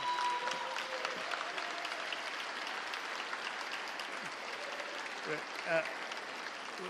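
Applause from an audience at a state of the state address fills the hall in a steady, moderate wash of clapping, with faint voices and a few brief tones underneath.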